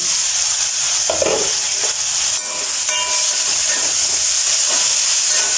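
Small onions (shallots) frying in a pan for ulli theeyal, with a loud, steady hissing sizzle, a brief clatter of stirring and a short dip partway through.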